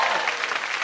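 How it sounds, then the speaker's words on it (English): A studio audience at a comedy talk show gives a brief, dense burst of applause welcoming a guest, loud and continuous throughout. "welcome applause."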